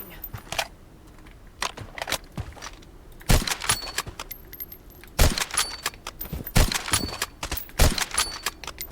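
Weapon reloading in the mobile shooter Blood Strike: a series of sharp metallic clicks and clacks, several distinct loud snaps spaced a second or so apart over a faint background, no talk.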